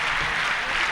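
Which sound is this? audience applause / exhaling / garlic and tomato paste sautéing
audience applause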